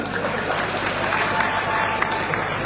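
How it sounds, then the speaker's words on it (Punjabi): A crowd at a political rally claps in sustained, dense applause, loud and steady throughout, with no single voice standing out. "ਟਕਾ ਕੇ ਤਾੜੀ ਮਾਰੋ"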